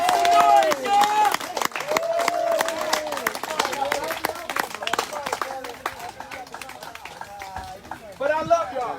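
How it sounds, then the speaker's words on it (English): Outdoor march crowd with clapping, scattered cheers and whoops, and a loud voice over a PA carrying on through the noise; applause swells near the end. "Y'all get them a round of applause."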